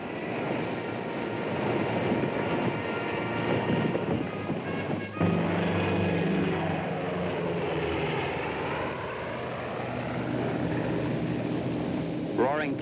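B-24 bombers roar about ten feet over sand dunes at some 200 miles an hour. A loud, steady engine drone fills the clip and swells into a heavier pass near the middle.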